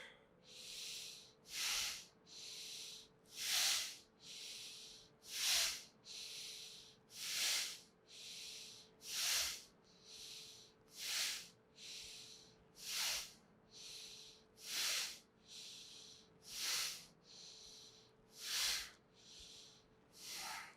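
Yoga breathing in an evenly paced session: about a dozen loud, hissing breaths near the microphone, each rising and falling, with a faint steady tone running underneath.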